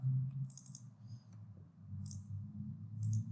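Computer mouse clicks while saving a project in Construct 2, a few short crisp click bursts spaced apart over a low background hum.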